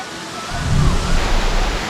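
Broad, steady roar of rushing water from a nearby forest waterfall, Muppochora in Bilaichhari, Kaptai, swelling slightly partway through and continuing without pause.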